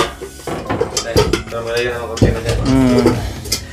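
Metal cooking pots clank and scrape as they are handled and stacked in a makeshift kitchen in a forest clearing, with several close, sharp knocks and rattles over a few seconds.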